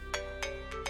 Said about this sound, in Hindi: आपकी भावज का फोन आ गया